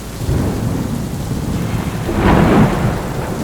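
Heavy rain pours steadily as a deep roll of thunder swells to a peak midway and then fades, loud and enveloping with no voices.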